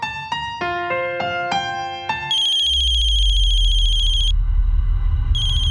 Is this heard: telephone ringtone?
yes